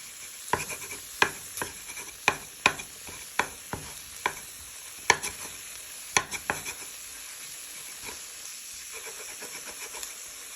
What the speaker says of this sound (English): So what we're just doing first is breaking the pieces of beef up.